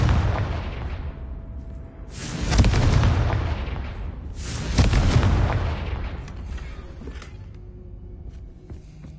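Confringo spells explode in Hogwarts Legacy, two loud, heavy blasts a couple of seconds apart, each with a long rumbling decay, the second fading into quieter background game sound.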